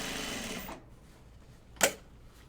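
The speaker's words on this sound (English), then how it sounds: "then sew the lining side to the lining here" A sewing machine runs a short continuous stitching burst, joining lining to lining on a Bin Bin fabric bin. It stops abruptly, leaving near-quiet broken by a single brief clack.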